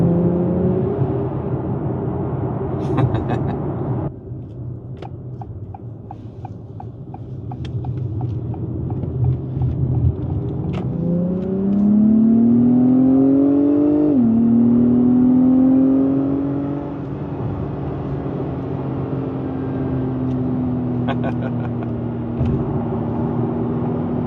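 A nearby 2025 Acura TLX Type S engine idles, then revs and accelerates with a rising whine, shifts, and settles back to a steady drone, with no voices.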